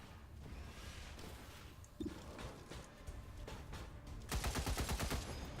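Gunfire from a unit in the XCOM 2 video game, a burst of rapid shots near the end after quieter game ambience and a brief earlier crack.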